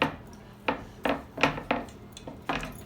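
A cast iron pizza pan for Chicago-style deep dish is handled, giving about six sharp metallic knocks and clanks at an uneven pace, close by with no talking.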